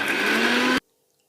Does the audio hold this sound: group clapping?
no